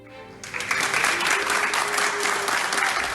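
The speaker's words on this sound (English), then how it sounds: "A loud applause echoed in this hall of the Villanova Star Hospital as Gina Del Coleto could finally leave" Loud applause rings out in a hospital hall in São Paulo as a recovered coronavirus patient leaves, a sustained, echoing wash of clapping that begins suddenly and holds steady.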